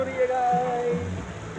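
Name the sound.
water raining down at a waterpark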